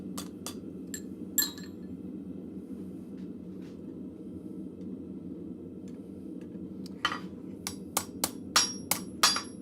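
Hammer blows on a blacksmith's anvil punching a hole through hot metal: a few sharp ringing strikes early, then a quick run of loud metallic clangs near the end over a low forge rumble.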